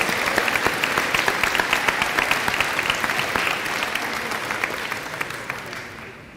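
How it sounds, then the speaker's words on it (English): At a school spring sports awards ceremony, the audience applauds the middle school boys basketball team with sustained, crisp clapping from many hands that gradually fades near the end. "Let's give one more round of applause to the entire middle school boys basketball team."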